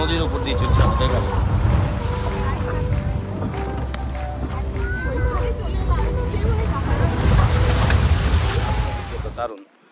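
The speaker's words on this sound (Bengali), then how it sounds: "নদীর উপর দিয়ে চলছে আমাদের গাড়ি।" A safari vehicle drives across the Jayanti river in Buxa forest. Its engine rumbles steadily under the splashing and rushing of water, close and loud throughout, with a voice speaking over it.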